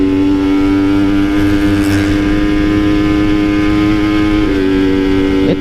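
Two-stroke Kawasaki Ninja motorcycle engine revving steadily while slipping the half clutch on an uphill, a loud, close, buzzing note holding high RPM throughout, with a slight dip and rise near the end.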